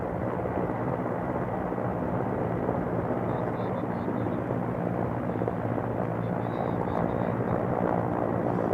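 An Mi-17 helicopter near a building at the Pokhran air-to-ground range during an air force exercise gives a steady, continuous rotor and engine drone, loud and unbroken throughout.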